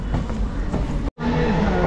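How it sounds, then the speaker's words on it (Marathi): A local train rumbles at a railway platform at Kamshet, with a steady low mechanical drone and rolling noise broken by a brief dropout, and a faint tonal hum appears afterwards. "बघा आपल्याला ही लोकल पकडायची समोर उभी लोकल"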